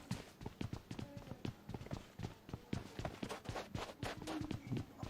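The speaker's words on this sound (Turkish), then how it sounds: "Ayak sesi." Footsteps in the PUBG Mobile video game, a quick run of rhythmic thuds at a steady pace, moderately faint in the game mix, with no talk over them.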